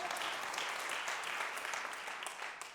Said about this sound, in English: Somebody clap for that. Somebody just clap, right?